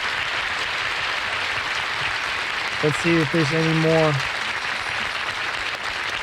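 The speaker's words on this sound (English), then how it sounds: "That clapping is loud." Dense, loud audience clapping on a live 1965 Righteous Brothers recording, a continuous wash of applause with someone briefly talking over it.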